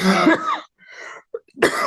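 A woman coughs several times in quick bursts at a town zoning board of appeals meeting, with a short gap and a small throat sound before one last cough.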